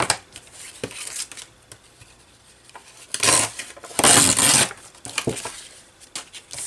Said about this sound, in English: I'm going to cut it about there.